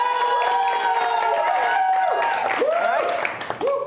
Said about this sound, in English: You're going to clap for everyone because we're not monsters.